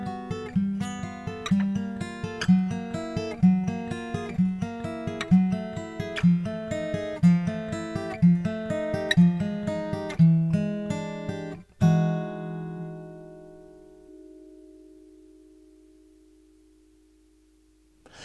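An acoustic guitar plays a ninth-chord fingerpicking exercise using thumb, index, middle and ring fingers, with evenly spaced arpeggiated notes in a steady rhythm close up, ending on a final chord that rings out and fades.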